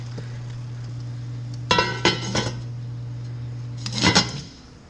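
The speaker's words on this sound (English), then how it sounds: "let me put the lid on." A lid set onto a pot holding pumpkin-shaped sourdough: a quick cluster of three metallic clinks, then a second rattling clink a couple of seconds later, over a steady low hum.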